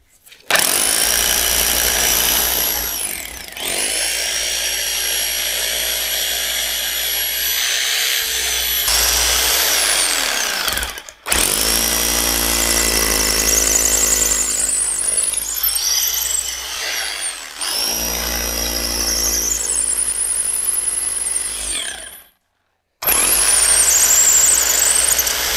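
A power drill bores through a concrete block to make a hole for a 12 mm anchor, giving a loud, close grinding whine in several long sustained bursts with brief pauses.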